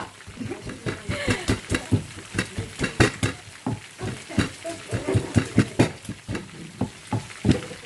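Garlic and tomatoes fry in a pot while being stirred, a steady run of short scraping strokes and soft sizzle repeating about every half second, close and fairly loud, with no talk.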